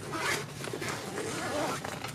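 Zipper on a QuiverX travel backpack pulled open in short scratchy bursts, close and fairly clear, with soft fabric rustle around it.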